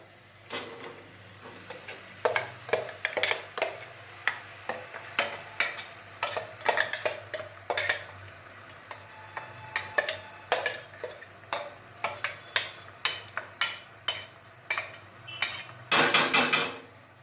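Ingredients for alam charu are stirred and fried in oil in a pan: repeated clanking, scraping strokes of a spoon against the metal, irregular but steady, over a faint sizzle, with no talk.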